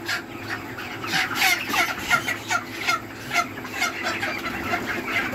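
Chickens being weighed for sale in crates at a market scale, clucking and squawking continuously nearby in a noisy cluster, with repeated louder calls rising above a steady background murmur.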